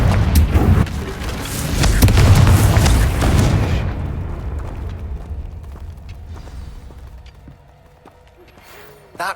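A Confringo fire spell explodes in Hogwarts Legacy, a loud rumbling boom that rolls and fades over several seconds, followed by quiet game ambience and a short burst at the end.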